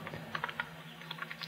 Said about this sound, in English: here I am typing my message